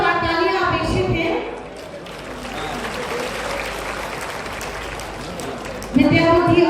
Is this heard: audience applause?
yes